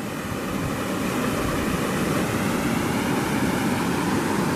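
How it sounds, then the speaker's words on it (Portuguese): Water pours down the spillway of a reservoir dam in a dense, unbroken roar, loud and steady from start to finish, with no voices over it. "Exatamente aqui onde a água está descendo"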